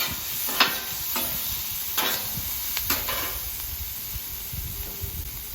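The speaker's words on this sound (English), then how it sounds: "we just combine them all together like a little stir fry" Pork and vegetables stir-fried together in a pan for quesadillas, a steady close hiss and sizzle with a few sharp scrapes of a utensil against the pan, no voices.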